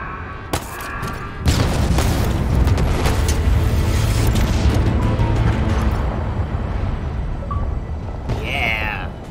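A gun generator exploding in Halo Infinite, a sudden loud boom followed by a long sustained rumble and roar that slowly fades, with a short speech-like burst near the end.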